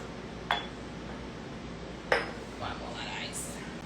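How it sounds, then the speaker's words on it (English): Glass and ice clinking as a mojito is stirred in a glass: two sharp clinks a second and a half apart, then softer rattles, near and fairly quiet, with no talking. "I'm gonna just stir it a little bit."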